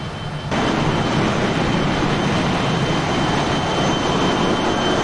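A Fokker 28 airliner's jet engines roaring from an exterior view in a flight simulator, a loud, steady, broadband blast that swells in abruptly and holds without a break.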